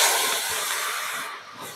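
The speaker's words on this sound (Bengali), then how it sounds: "এইভাবে জল ছিটিয়ে ছিটিয়ে কিন্তু আমি সুজিটা সেদ্ধ করে নেব।" Water sprinkled a little at a time onto semolina cooking in a hot pan gives a steady, fairly loud sizzling hiss that runs the whole moment, easing slightly near the end.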